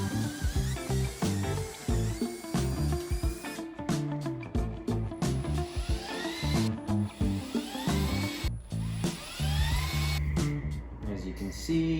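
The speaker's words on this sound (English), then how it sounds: "So we're ready to start pre-drilling some holes, gluing it, and screwing it together." A power drill bores pilot holes into wood for a shelf build, whining in short bursts that rise and fall with pauses between them, close and fairly loud.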